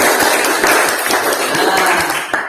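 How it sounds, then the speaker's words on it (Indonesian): Whole class clapping hands together in a classroom, a dense burst of claps lasting a couple of seconds with a few voices mixed in. "Tepuk tangan dulu semuanya."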